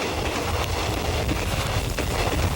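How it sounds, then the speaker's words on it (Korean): Rumbling train noise inside a long, steeply graded railway tunnel over 4,500 m long on the Yeongdong line near Taebaek, a steady, loud low roar with wind-like rush and no clear rhythm throughout. "열차가 이 터널을 지날 때면 굴 입구에 잠시 섰다가 가는데"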